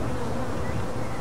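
A steady, dense insect buzz of bees in a video game, continuous and fairly close, with no pauses over the short stretch.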